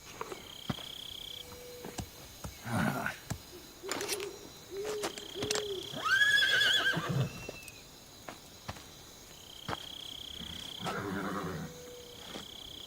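In Metal Gear Solid 3 on PS2, a horse neighs in a jungle setting, with a few whinnying calls amid game ambience and scattered sound effects at moderate volume.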